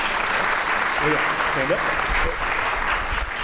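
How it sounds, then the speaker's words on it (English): An audience at a live podcast event at a trade show claps for the panelists, with loud sustained applause while voices speak briefly over it. "a big round of applause for our panelists up here"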